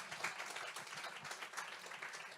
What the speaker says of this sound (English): Give him a round of applause, thank you.